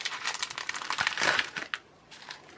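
A small plastic parcel of 7 mm rhinestones ordered online is opened, giving close, busy crinkling and rustling for about two seconds before it quiets to a faint trailing rustle.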